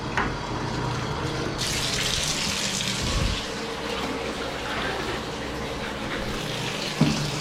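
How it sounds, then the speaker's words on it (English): Tap water running into a plastic pee bottle during a rinse, a steady close gushing splash with slight shifts in tone as the bottle is moved under the stream. "so now I just come in here and do kind of the first rinse"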